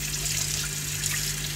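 Water pours steadily from a container onto chicken in a pan for an oven dish with rice, a continuous close splashing gush with no talk.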